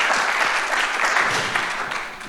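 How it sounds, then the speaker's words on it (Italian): Audience applause for a woman who asks the first question at a public talk, a dense, steady burst of clapping from a crowd that slowly tapers toward the end. "Applauso alla signora che fa per prima domanda."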